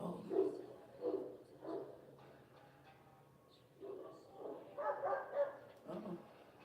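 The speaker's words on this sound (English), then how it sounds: "You guys hear that dog off in the background?" A strong-sounding dog barks repeatedly off in the distance outdoors, short bursts of barking spaced a second or so apart, faint and far while vegetables are chopped nearby.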